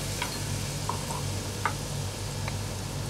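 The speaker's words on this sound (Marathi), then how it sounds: "थोडंसं परतून घ्यायचं आपल्याला" Freshly grated ingredient sautéing in a pan, a steady soft sizzle with a low hum underneath and a few light ticks of a spoon stirring.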